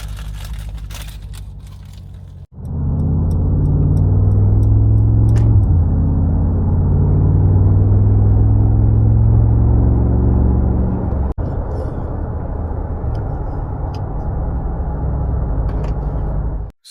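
Mercedes G63 G-Wagon in traffic, a sudden start of low engine rumble from inside the cabin that holds steady and loud, with brief changes in pitch and a short click partway through.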